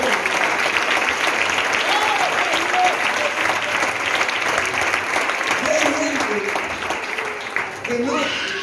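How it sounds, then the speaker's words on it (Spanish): A church congregation claps hard and continuously at an anniversary service, loud and sustained, with shouts and voices rising over the applause near the end. "Dale un fuerte aplauso al Señor."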